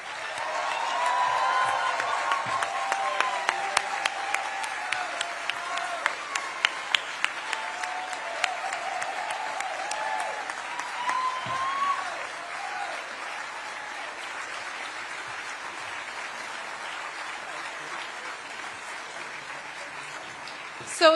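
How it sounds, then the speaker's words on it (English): Applause from the audience at a Maine Democratic Party convention picking a US Senate candidate: a broad, sustained round of clapping with a few sharp, close claps early on, gradually thinning and settling into a softer, even wash toward the end. "Let's give them all a huge round of applause."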